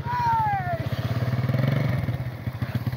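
Yamaha 80 motorcycle engine on a hill climb, a close, loud, steady pulsing putter that holds a low rhythmic beat throughout, with a brief rising whine at the start.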